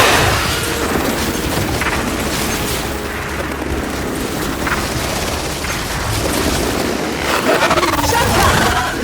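Heavy rumbling blast of a frag grenade in the shooter game Gears 5, a loud, sustained booming roar mixed with battle noise and debris, with voices faintly underneath.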